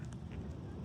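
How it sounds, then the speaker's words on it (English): A couple of short duck quacks sound faintly over a steady low outdoor rumble in a pasture. "We got a duck here."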